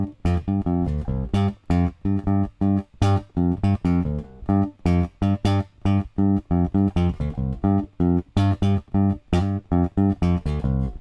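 A 1970s Precision bass played straight through a DI into plugins gives a rhythmic run of punchy, loud plucked notes with strong low harmonics and short gaps between each note.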